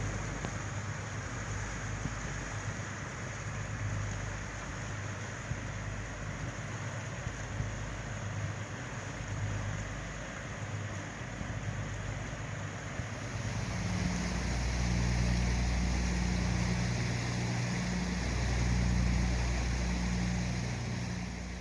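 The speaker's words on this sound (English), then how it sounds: "Are there two towboats pushing these barges, or is the little towboat just along for the ride?" A towboat pushes barges on a river, giving a low, steady engine drone that grows louder and throbs in the second half. Wind and water wash run underneath, with no voices.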